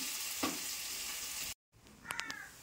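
Paneer masala curry simmering in oil, a steady close sizzle that breaks off abruptly, then resumes more quietly with a few sharp scraping clinks.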